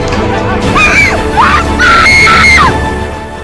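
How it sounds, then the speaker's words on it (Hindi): Villagers screaming and yelling during a violent fight with sticks in an open field, several loud, overlapping wailing cries rising and falling over a dense crowd hubbub. "चारों ओर चीख पुकार मची हुई है।"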